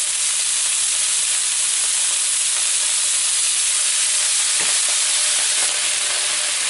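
Mushroom Manchurian sizzles and fries steadily in a hot pan as vinegar goes in, a dense continuous hiss with a couple of faint clinks near the end.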